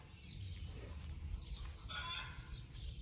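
Laying hens cluck and cackle faintly in the background, with a brief distant crowing-like call over a low rumbling ambience.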